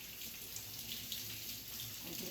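Kitchen tap water runs steadily into a sink while dishes are washed, a continuous, close hiss of flowing water with no talk.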